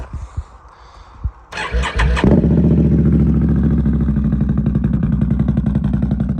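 Can-Am Renegade ATV fitted with an SLG slip-on exhaust fires up after a few light clicks, then settles into a loud, close, steady throbbing idle with a rough pulsing rhythm.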